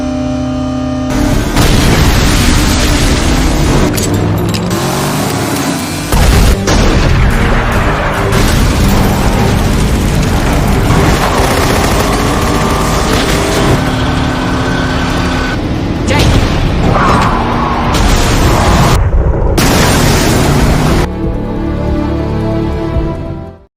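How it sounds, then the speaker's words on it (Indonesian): Tank cannon fire and heavy explosions from a war-action film about stealing the Mona Lisa, with loud repeated booms and blasts over a dense, continuous battle soundtrack that runs almost the whole time at high volume. "Jack berhasil menghindari setiap tembakan yang dilancarkan oleh tank tersebut."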